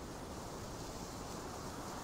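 Sea waves in the survival game Eden Island make a soft, continuous wash of surf, faint and even throughout with no distinct breaks and no voices.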